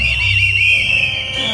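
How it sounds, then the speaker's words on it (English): Whistles blown by a crowd at a tribute concert for a reggae artist, a loud sustained shrill tone held steadily across the moment with the music and crowd noise beneath it. "can you blow that your whistle? Let me hear that your whistle in this place."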